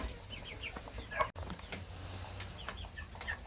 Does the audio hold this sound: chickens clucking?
yes